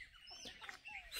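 A small bird singing with brief faint chirps and tweets, quiet and distant.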